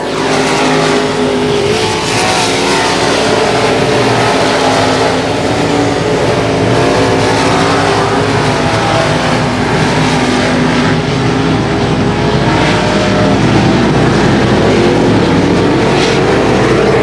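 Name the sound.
race cars on a dirt track, final lap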